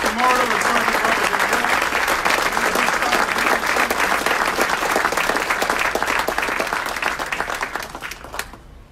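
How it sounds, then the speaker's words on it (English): An audience at an Aurora city council meeting gives a dense round of applause for Aurora Police Department officers, sustained and fairly loud with a voice faintly under it, thinning out toward the end. "one more round of applause"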